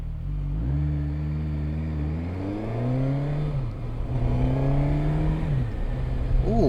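Suzuki GSX-S1000GT+ motorcycle engine revs close up, pitch climbing and falling through repeated throttle blips and rising again at the end, steady and loud with no talking.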